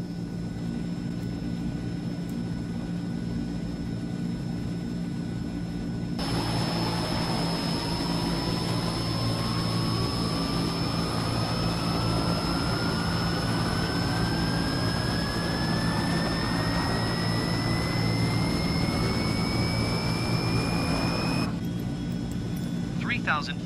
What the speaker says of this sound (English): General engine start.